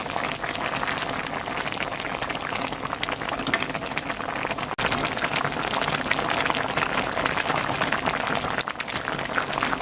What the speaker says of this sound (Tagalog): So, lalagay natin yung shrimps natin.